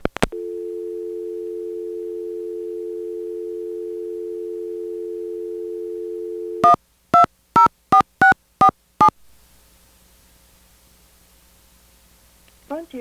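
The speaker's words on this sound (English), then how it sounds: "I will now run over to my desk phone and place a test call with it" A desk phone places a test call to a time and temperature line: a steady dial tone holds for several seconds, then a quick run of about seven touch-tone digits, followed by faint line hiss and the start of a ringback.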